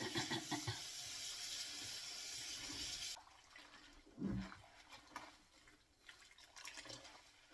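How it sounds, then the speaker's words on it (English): Cold water rushes and splashes steadily for a few seconds onto hot dried bitterleaf, then stops, followed by quieter clinks and handling sounds. "Cold water on it."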